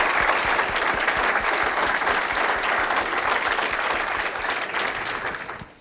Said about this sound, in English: let's just give a round of applause to everyone that's made this happen